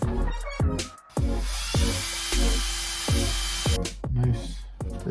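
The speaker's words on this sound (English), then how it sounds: "And then you take your other end and you put it in the drill" An electric drill twists a length of wire into a braid, giving a series of short whirring bursts that start and stop in an uneven rhythm, close and fairly loud.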